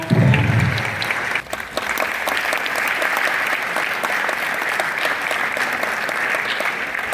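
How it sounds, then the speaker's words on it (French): Loud, sustained audience applause at the opening ceremony of an information and orientation fair, with dense clapping that dips briefly near the middle before continuing strongly and evenly to the end. "Encore un tonnerre d'applaudissements."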